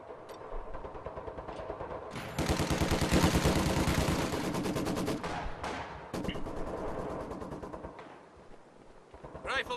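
Heavy machine gun fire from an HMG crew in the Company of Heroes 2 strategy game, long rapid bursts of loud automatic shots with repeated shorter bursts among battlefield noise, plus brief unit voice lines.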